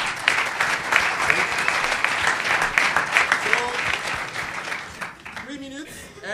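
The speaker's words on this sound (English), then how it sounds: "And a good round of applause for him." An audience at a startup pitch event claps loudly and steadily for about five seconds. The dense applause then fades as a voice begins to speak.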